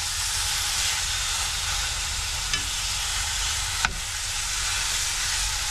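Food cooking in a pan on a small stove inside a van, a soft steady sizzle and hiss with a couple of faint clicks, quiet and continuous with no talking.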